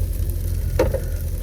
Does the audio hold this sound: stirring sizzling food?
yes